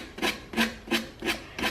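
Hand sanding a furniture drawer with coarse 100 grit sandpaper, five even back-and-forth rasping strokes in a quick steady rhythm, close and fairly loud with no voices.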